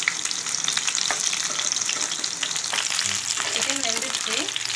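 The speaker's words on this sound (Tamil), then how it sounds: "இந்த எண்ணெயிலே வறுத்து எடுத்துக்கலாம்." Pieces of chicken for a creamy Japan chicken dish fry in a shallow layer of oil, a steady close crackling sizzle with soft stirring knocks near the end.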